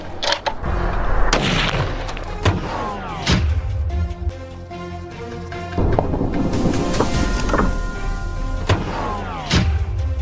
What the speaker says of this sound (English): I took a deep breath, held it steady, and pulled the trigger. The explosion echoed through the mountains.